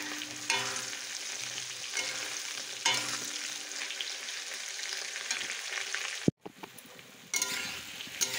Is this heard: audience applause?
no